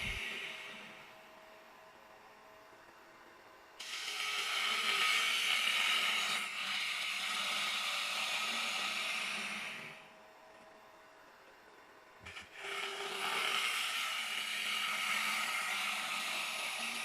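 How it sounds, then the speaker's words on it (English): A woodturning lathe spins a birch log while a ball gouge hollows it, giving a continuous whooshing, scraping cut that swells and fades in long passes over a low motor hum, with a brief break near the end and no talk. "I start the hollowing with the ball gouge and just go as deep as I can with that"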